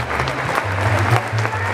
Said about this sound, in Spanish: un aplauso bien fuerte para todas ustedes